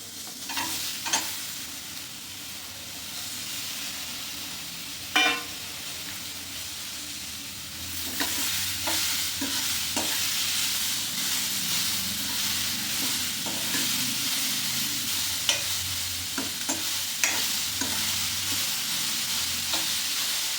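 Tomato added to a pan for masala sambar fries over high heat with a continuous sizzle, broken by scattered stirring scrapes and clinks and a few sharp spatters, steady and close throughout.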